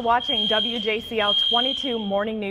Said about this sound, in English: we have a fire drill going on right now. You can hear that blaring in the background.